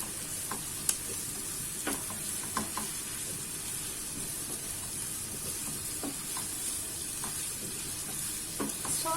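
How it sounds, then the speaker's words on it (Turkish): Green peppers are stirred among browning onions in a frying pan, a steady soft sizzle with scattered scrapes and taps of the spoon, close and moderately quiet, no voices. "Yeşil biberleri. Güzelce karıştırıyorum."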